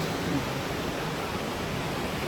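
The Kamianka waterfall in the Carpathians roars as a steady, dense rush of falling water, loud and unbroken throughout with no voices.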